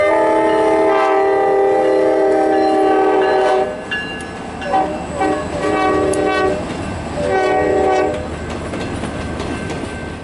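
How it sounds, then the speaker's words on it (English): A Grand Canyon Railway train in Williams, Arizona sounds its horn loudly and close by in long blasts, then shorter bursts, while the cars roll past. "This is the historic Grand Canyon Railway."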